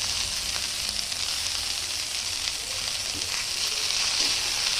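Bathua greens fry with onion and garlic in a pan, giving a close, continuous sizzle with faint stirring that runs steadily throughout.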